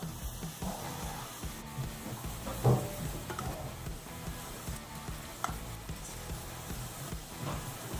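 Food sizzling in a pan during a celebrity chef cooking competition, a steady close hiss and crackle with scattered scrapes and one sharper clatter midway, no talking.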